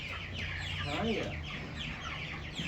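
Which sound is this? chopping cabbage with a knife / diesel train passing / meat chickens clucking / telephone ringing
meat chickens clucking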